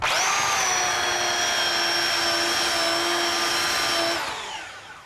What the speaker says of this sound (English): doing it with a belt sander, it takes it down real quick